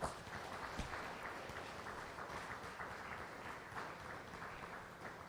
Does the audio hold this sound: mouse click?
no